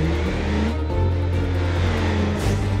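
A Range Rover's engine revs and accelerates in the BeamNG driving simulator, a loud mid-pitched roar that climbs through gear changes with brief dips, steady and close throughout.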